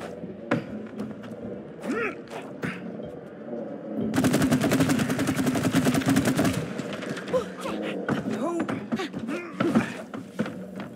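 Rapid bursts of match gun fire in It Takes Two crackle in a dense volley for a couple of seconds, framed by scattered thumps and short game sounds before and after.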